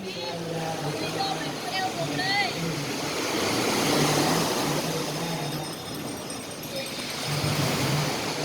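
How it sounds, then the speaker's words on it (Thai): Strong surf crashing on Kalim Beach in Phuket, a steady broadband roar of breaking waves that swells and eases over several seconds, with someone talking over it and faint higher chatter in the background. "ดูความแรงของคลื่นนะ คลื่นแรงมากตอนนี้"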